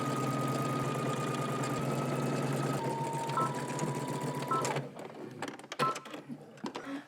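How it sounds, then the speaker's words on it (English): A sewing machine stitching a 5/8-inch seam allowance runs with a steady motorized hum and rapid needle whirr for about five seconds, then slows and stops, leaving scattered clicks and fabric handling. "let's head to the sewing machine. You're gonna stitch this using 5/8 of an inch seam allowance."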